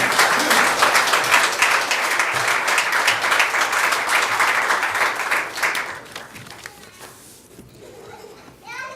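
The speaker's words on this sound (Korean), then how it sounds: "뜨거운 격려의 박수로 맞아주시기 바랍니다." A crowd at a Korean political party's regional convention gives loud, sustained applause for a youth committee candidate, then fades out, leaving quieter room sounds.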